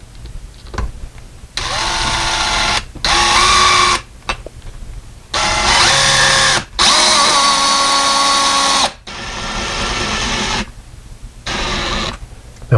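A power drill drives a screw into a window blind bracket in several bursts, a loud whirring that starts and stops repeatedly between short pauses.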